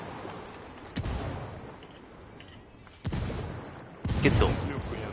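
Gunfire and explosions in Ghost Recon Wildlands, an open-world shooter game: sharp bursts and booming blasts at irregular intervals over a rumbling noisy bed, the loudest blast near the end.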